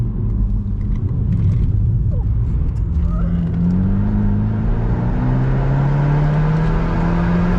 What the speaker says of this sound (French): Elle patine l'accélération.